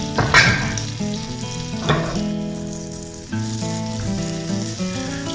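Avocado oil heating in a pan with a steady close sizzle and crackle, plus a few sharp pops and clicks, all set against sustained tonal music.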